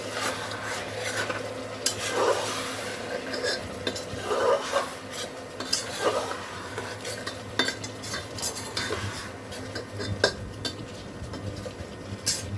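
Masala being stirred into mutton korma in a pot, metal spoon scraping and clinking against the vessel in repeated strokes over a low sizzle, close and steady throughout.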